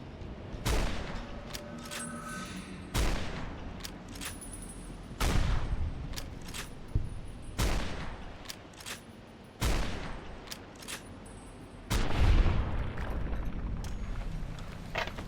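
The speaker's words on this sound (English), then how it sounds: "This is where this anti-material rifle will come in handy." Heavy anti-materiel rifle shots from Fallout: New Vegas boom out one by one at intervals of roughly two seconds. Each blast is loud and sharp and trails off into an echoing tail.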